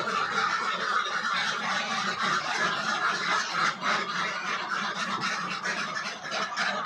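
A flock of ducks on a duck farm quacks and honks continuously, a dense overlapping chorus of nasal calls close by, with no speech.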